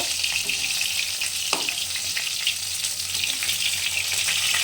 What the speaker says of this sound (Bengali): কাতলা মাছটা কড়া করে ভেজে নিচ্ছি, লাল করে ভেজে নেব।